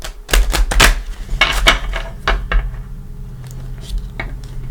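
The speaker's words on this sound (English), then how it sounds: "Give them a couple shuffles, even though they're hard to shuffle." Crisp papery slaps and riffles in quick bursts, cards being shuffled close by, then a few softer taps as the handling slows.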